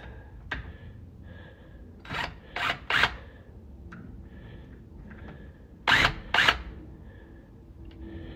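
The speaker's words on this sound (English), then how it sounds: "Removing this, I need to use my power tools." A power drill whirs in several short bursts removing door knob and deadbolt hardware, two near the start and two more later, with quiet gaps and faint handling noises between them.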